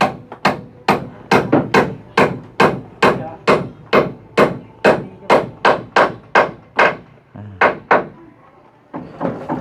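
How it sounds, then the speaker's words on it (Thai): Steady, loud hammer blows striking nails during roof building, about two per second in a regular rhythm, with a brief pause near the end before the strikes resume. "ตะปูตอกนี่แหละ"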